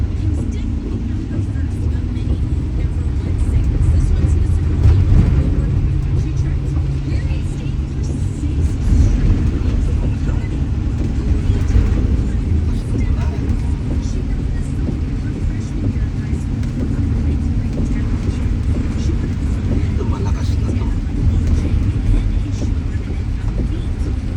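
A steady low rumble of a U-Haul moving truck driving in heavy rain, engine and tire noise continuous and fairly loud with faint rain wash, a voice talking intermittently over it.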